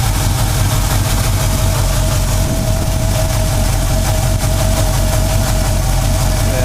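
A Mustang engine idling steadily and smoothly up close, a constant low rumble with an even hum and no voices.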